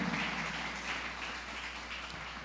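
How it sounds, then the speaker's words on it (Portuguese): A church congregation applauding after a sermon, a steady, soft wash of clapping heard from a distance over a low hum. "E dê um forte aplauso para Jesus."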